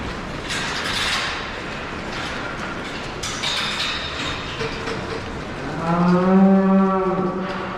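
A Holstein dairy cow in a barn holding area gives one long, loud moo near the end, rising over a background of clattering machinery and shuffling noise.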